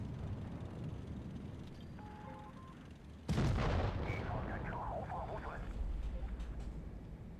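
Game units explode in a strategy video game: a sudden loud blast cuts into a steady battle din and then rolls on as dense rumbling explosions. Faint voices sit beneath the noise.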